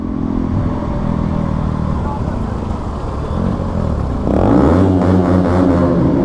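Motorcycles roll along a road in Nalgonda with a continuous engine drone, then one revs up sharply with a rising, rasping exhaust note near the end, loud and close.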